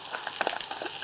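Brinjal frying in oil over a high flame, a brief burst of crackling, spitting sizzle with small pops, close and fairly loud, with no voices.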